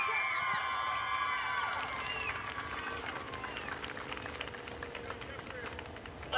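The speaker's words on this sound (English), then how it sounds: "Give a round of applause." Crowd at Midvale Speedway on championship night cheering and clapping for race driver Jeffrey Elkins, a broad wash of applause and whistles with a voice talking over it through most of the stretch.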